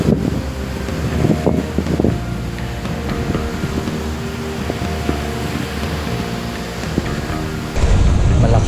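Steady strong wind roars against the microphone with churning waves beneath at a fishing spot, loud and continuous, swelling harder near the end.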